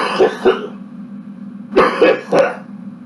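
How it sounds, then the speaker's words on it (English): A man coughs and clears his throat in a quiet room: two quick rough coughs, a short pause, then three more harsh close bursts in a row. "Yeah, folks, I cough."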